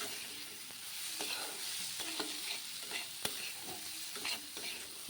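Dry-fried banana flower (koldil) sizzles steadily in a pan, with scraping stirs and a few sharp clicks of the utensil against the pan, quiet and close, no talking.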